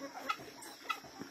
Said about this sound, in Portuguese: As minhas galinhas tudo atrás de mim aqui.